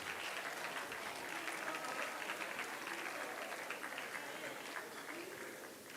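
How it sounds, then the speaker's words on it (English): Audience at an event applauds steadily in a dense, even wash of clapping that continues throughout, quiet and distant in level, with voices faintly mixed in. "A round of applause for the Honorable Vice President, Dr. Mohamed Julde Jallow."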